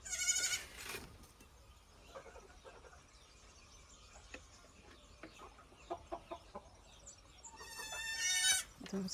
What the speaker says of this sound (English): that's the rooster still